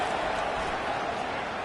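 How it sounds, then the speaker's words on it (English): A football stadium crowd roars in a dense, steady wash of cheering noise at a college game, Oklahoma State against Penn State, loud and continuous under possible commentary. "Listen to this crowd just shaking the girders of this place"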